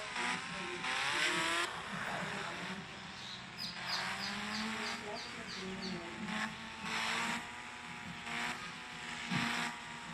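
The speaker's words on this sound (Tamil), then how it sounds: "அவரோட ட்ரீம் பைக் நம்ம ஓட்டுறோம் R15 தான்." A revving Yamaha R15 motorbike engine in the video game Indian Bike Driving 3D rises and falls in pitch, with bursts of acceleration and chirping effects, all in a busy game-like mix.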